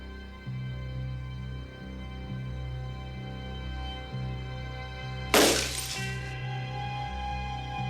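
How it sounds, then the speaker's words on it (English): A sheet of glass shatters in one sudden, loud crash midway through, with a brief tinkling tail, over a steady low hum and quiet musical background. "this young history teacher is going to try to will this sheet of glass to shatter"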